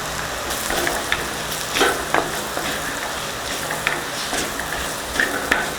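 Spice powders frying in coconut oil in a pan for a Kerala crab curry, a steady soft sizzle with occasional scrapes and stirring clicks, moderately close.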